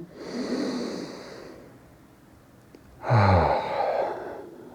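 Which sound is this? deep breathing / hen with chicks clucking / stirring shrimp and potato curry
deep breathing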